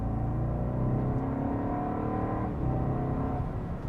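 A Bentley Flying Spur V8 pulls hard under acceleration, a steady loud engine drone with a brief dip midway before the revs climb again, heard from inside the big luxury sedan.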